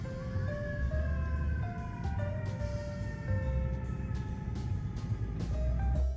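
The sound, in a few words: emergency vehicle sirens near Times Square, New York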